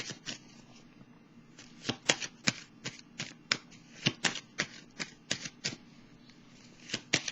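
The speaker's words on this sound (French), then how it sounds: "Je vais poser je vais piger une carte ici." Tarot cards being shuffled and drawn, a quiet series of crisp snapping riffles and flicks repeating irregularly at close range with no talking.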